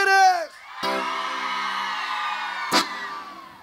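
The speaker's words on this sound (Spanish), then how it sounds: "A ver el grito de todas las mujeres." A festival crowd of women at a gastronomic fiesta in Lumaco, Chile, lets out a sustained high shrill scream, loud and massed, after a brief voice at the start, with a sharp burst of cheering near the end.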